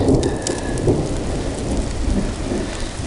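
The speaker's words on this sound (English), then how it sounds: "Dang rain." A steady rain keeps falling through the woods in a thunderstorm during a Bigfoot footprint search at Bear Wallow, with dense hiss and a low rumbling thunder underneath, loud and constant with no one speaking.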